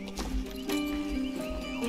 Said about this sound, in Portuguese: Olha o cavalo deitando e rolando.